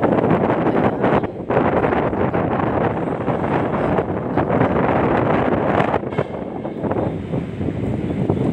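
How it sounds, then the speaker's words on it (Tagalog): Steady, heavy wind buffeting the microphone at Dolomite Beach on Manila Bay, a constant roaring rush with brief gusty dips, no voices over it. "Mahangin siya, oh."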